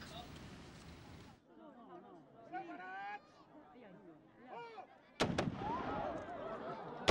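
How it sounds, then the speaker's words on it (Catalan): Trabucaires fire blunderbusses at the lighting of a charcoal kiln in Cànoves: voices murmur over an outdoor crowd, then sharp, loud blasts burst out near the end and a broad roar follows. "Els trabucaires de Cardedeu van donar el tret de sortida, mai més ben dit, a la Carbonera de Cànoves"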